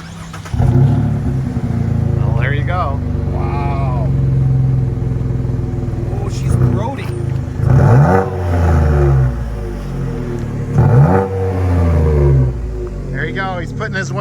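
A 2018 Chevy Colorado pickup with a newly fitted Corsa aftermarket exhaust starts and idles with a deep burbling rumble, blipped several times with loud revs rising and falling, while people talk and cheer over it.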